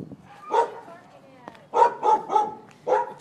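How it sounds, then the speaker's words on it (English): Dogs barking at an animal shelter, a few loud close barks in short bursts, one single yelp and then a quick run of three barks, with a faint whine between. "to see some dogs."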